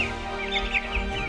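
Young Bresse chicks, a French chicken breed, give short clucks and peeps close by, a few repeated calls over a steady background hum.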